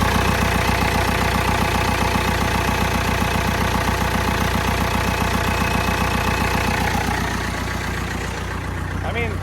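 A Massey Ferguson 285 tractor engine idles steadily nearby with a loud, even, rapid low-pitched pulsing, continuous for the whole stretch and easing slightly near the end.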